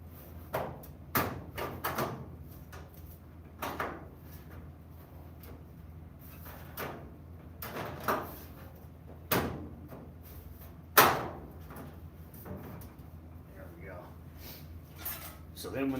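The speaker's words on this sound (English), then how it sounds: "So then when the door opens, this quarter panel tucks, or when it closes, it tucks inside." Car door on a custom build in a garage, swinging open and shut on adjusted hinges, giving several sharp knocks and clunks spaced across the stretch amid softer handling noises, fairly close.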